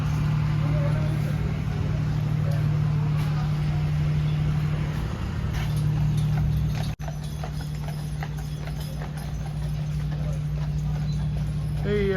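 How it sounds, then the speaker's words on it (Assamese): A horse pulling a buggy clip-clops steadily along a street in Niagara-on-the-Lake. The hoofbeats are close and continuous, with people talking over them and traffic noise in the background. "এই ঘোঁৰা গাড়ী বাগী গাড়ী"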